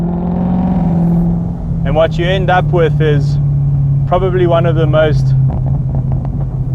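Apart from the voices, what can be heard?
BMW M3 with Ferrari V8 engine revving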